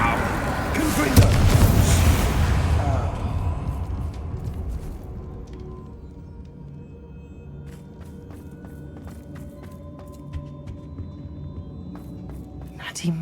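The Confringo blasting spell in the Hogwarts Legacy video game sets off a loud, booming explosion that rumbles and fades into a low background, followed by scattered faint clicks and footsteps.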